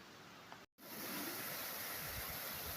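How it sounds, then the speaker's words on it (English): Steady broadband rushing of a distant waterfall on Mt Washington in fog, a continuous hiss briefly cut off by a short silent gap before resuming at even loudness. "right over there is the waterfall"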